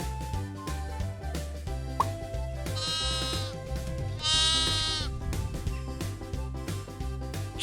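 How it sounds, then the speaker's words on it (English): Two clear sheep bleats, each wavering for about a second, rise above a bouncy children's music backing. "Sheep."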